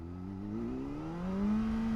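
A car engine revs under throttle, its pitch climbing steadily over two seconds, loud, close and sustained, with no talk.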